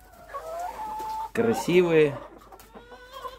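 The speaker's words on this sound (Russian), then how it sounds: "И уже возится, она кудахчет." An Orpington hen clucks in a short run of close, throaty calls, with a person speaking just before and briefly over it.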